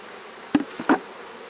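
Honey bees buzz around an open hive during a first honey extraction, heard as a faint, brief hum broken by a couple of short, close knocks.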